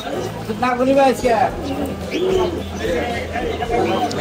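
Soft pigeon coos repeat amid busy market chatter, with people talking throughout and a steady background murmur.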